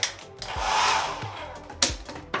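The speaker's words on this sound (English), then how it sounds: "hair dryer" A hotel bathroom hair dryer whooshes on with a broad airy roar, swells briefly, then cuts off amid a few knocks and clicks.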